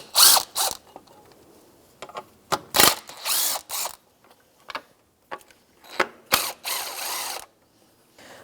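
A ratchet with a 10mm socket loosens the upper belt-cover bracket bolts on a 2004-2009 Subaru Outback. It gives several close, crisp bursts of clicking separated by short pauses, and no one speaks.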